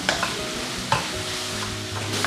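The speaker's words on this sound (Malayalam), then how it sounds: "എന്നിട്ടൊരു മീഡിയം ഫ്ലെയിമിലിട്ടിട്ട് നന്നായിട്ട് ഇതൊന്ന് വഴറ്റിയെടുക്കണം" Sliced onions and green chillies sauté in a pan over medium flame for a chicken curry, making a steady close sizzle broken by a couple of sharp stirring scrapes, with no talking.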